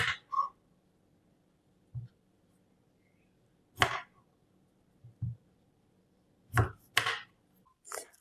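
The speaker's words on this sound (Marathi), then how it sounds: "आणि पहिले आम्ही हे देठ कट करून घेया" A knife cuts the stems off raw green mangoes, a handful of sharp, separate knocks spaced irregularly against near silence.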